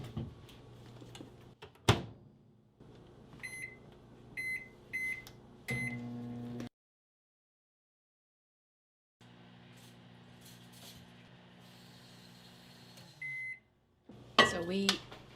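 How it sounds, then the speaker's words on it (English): A microwave door clunks, its keypad beeps several times, then the oven hums steadily while melting fathead dough; after a pause the hum resumes and ends with a beep and door sounds. "it's going into the microwave at first for 1 minute"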